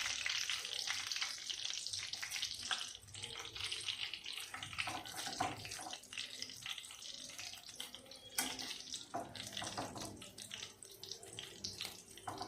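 Chicken potato chops frying in hot oil, a steady broadband crackle and sizzle that runs for the full stretch at moderate, close level, with scattered sharper pops and spits rising above it.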